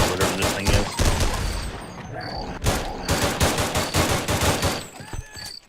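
An AR-10 rifle fires in the video game They Hunger, with rapid bursts of loud, close gunshots in uneven clusters and short gaps between them.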